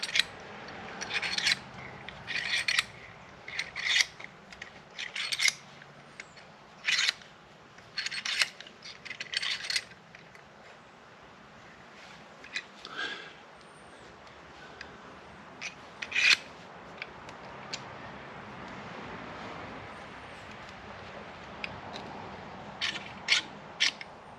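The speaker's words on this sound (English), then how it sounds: "Now we're going to spread the pistons." A piston spreader pushes the brake caliper pistons back on a Harley-Davidson touring motorcycle's front brake, making a series of sharp clicking, rasping mechanical bursts in the first ten seconds, then quieter scattered clicks and scrapes nearby.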